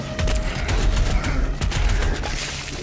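Micro missile gunfire in the video game Doom Eternal: a dense, loud burst of rapid explosive shots and booms lasting a few seconds, with no talk over it.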